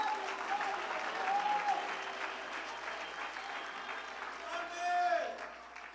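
A church congregation claps throughout a worship service, a steady mass of applause with voices calling out over it and a louder swell near the end.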